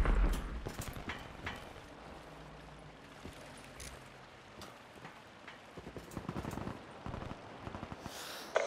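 Suppressed P-06 sniper rifle shots fired in Black Ops 3, heard from a distant free camera position: repeated sharp cracks at irregular intervals over a steady, noisy game ambience, with no talking.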